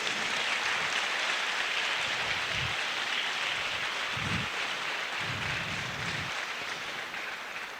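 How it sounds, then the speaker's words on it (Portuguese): A church congregation applauds a pastor, a dense, rain-like wash of clapping heard at a moderate distance with a few low thumps mixed in. "Pode se aplaudir, por favor."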